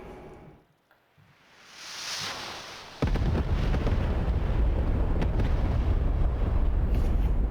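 AGM-65 missile strikes in the DCS flight simulator game: wind rush builds, then a sudden heavy blast at about three seconds gives way to a sustained loud rumbling roar that continues to the end.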